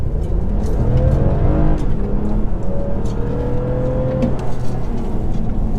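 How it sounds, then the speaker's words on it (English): A 2019 Toyota Avalon Limited's engine roars loudly from inside the cabin in sport mode, its pitch climbing through the revs before a gear change and climbing again, steady and strong. "You can hear a good bit of the engine though."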